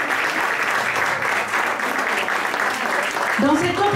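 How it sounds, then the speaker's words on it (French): Sustained audience applause after an emotional song performance at a Valentine's show, a constant, full crowd clapping throughout, with a voice starting to speak over it near the end. "On applaudit bien fort"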